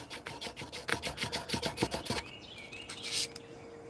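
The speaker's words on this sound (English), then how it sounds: "Hand sanding a knife." A knife blade is hand sanded with quick rhythmic rasping strokes, close and loud for about two seconds, then the scraping stops and faint high chirps remain.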